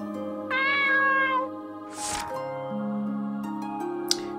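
A cat in the game Voidswept lets out one clear, close meow, followed by a soft squishy touch sound, all over a steady tonal game-music drone.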